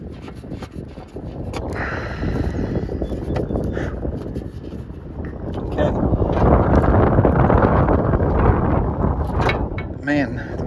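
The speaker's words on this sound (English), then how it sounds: "the wind is strong today" Strong outdoor wind buffets the microphone in a loud, continuous rumbling roar that swells in the second half, with faint metallic clinks of a wrench during car repair work.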